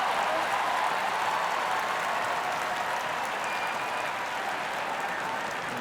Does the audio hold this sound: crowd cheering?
yes